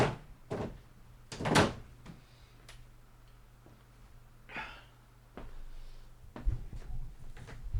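A room door swung shut to keep out a neighbor's loud music, heard as a few sharp knocks and thuds spread across the span, with a low steady hum underneath and no voices.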